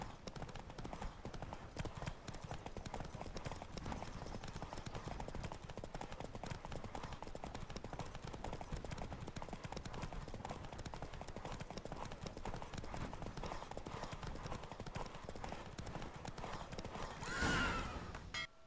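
Continuous rapid hoofbeats of a galloping horse in The Witcher 3: Wild Hunt video game, during a horse race, steady and close throughout, with a brief whinny-like swell near the end.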